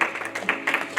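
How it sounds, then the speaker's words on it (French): Wedding guests clap through a short burst of applause at a church marriage ceremony, with clustered claps rising and falling in quick waves. "C'est le jour des applaudissements, c'est le jour de célébrer."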